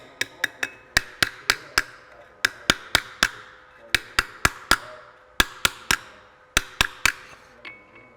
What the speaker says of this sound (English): so it's gonna take a lot more hammering today